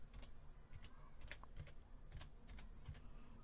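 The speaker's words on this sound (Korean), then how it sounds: "우리은행이라고 쳐주세요." Keys tapped on a computer keyboard while entering a bank name in accounting software, a quick run of faint, close clicks in uneven rhythm with no talk.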